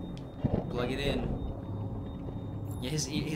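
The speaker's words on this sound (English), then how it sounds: "his hearing's messed up. That's why the audio sounds like this." In Detroit: Become Human, damaged-hearing game audio sounds dull and muffled: soft thuds and indistinct voices sit beneath a steady high-pitched ringing tone.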